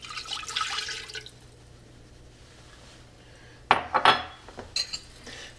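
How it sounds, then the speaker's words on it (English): Beef broth is poured into a hot pot on a medium-high burner to deglaze it. A few clinks of metal come first, then a sudden splashing hiss with scattered bursts as the liquid hits the hot surface. "I'm going to add the beef broth to deglaze the pan."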